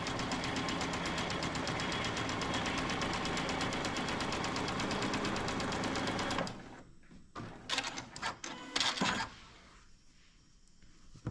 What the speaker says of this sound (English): do a victory lap basting stitch all the way around the outside edge of our quilt